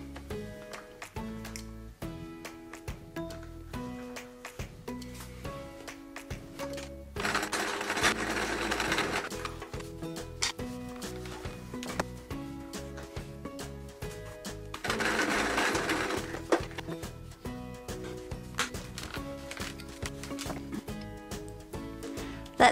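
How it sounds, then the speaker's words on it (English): Sewing machine stitching quilt bands together for a Peter Rabbit patchwork quilt, running in steady rapid bursts with short pauses between seams, close and clear with no talk. "I'm going to stitch together the complete bands, the top one first, the middle one, and then the bottom one."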